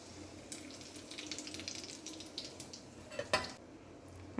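Cumin seeds and a bay leaf crackle in hot oil while a Bengali mung dal with ash gourd is being cooked, giving a steady near sizzle with scattered sharp pops and a louder spatter burst late on.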